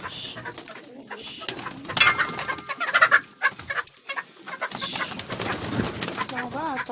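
Pigeons and chickens let out in the morning: fluttering wings, cooing and clucking close by, busy and scattered, with someone talking over the birds.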